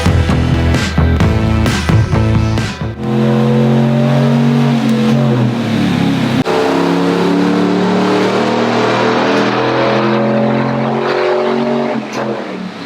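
A Ram 1500 pickup truck engine with a Manta exhaust revs hard on a dyno, climbing steadily in pitch through the gears with a loud, sustained roar and a brief drop midway.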